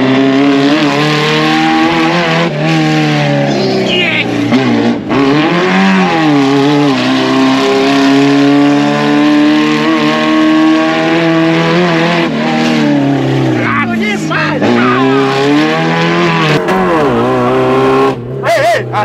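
A modified Suzuki Samurai with a loud engine of over 300 hp, revving hard and continuously close by with rising and falling pitch, while voices talk over it.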